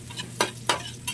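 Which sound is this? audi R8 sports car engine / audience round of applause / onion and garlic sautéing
onion and garlic sautéing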